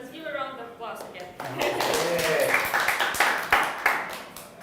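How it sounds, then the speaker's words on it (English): Applause from an audience at a tech talks and networking evening, broken clapping building after a voice speaks, then sustained and fairly close with a few louder claps near the end. "Let's give a round of applause again."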